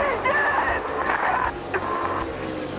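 Race car engines roar and whine at Richmond during a Hardee's National Series race, a dense, continuous mechanical din with shifting pitch, heard close and loud.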